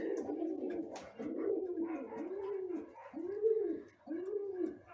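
Pigeons in a loft coo in a steady series of low, rolling calls, repeated roughly every second, fairly close with faint chirps in the background.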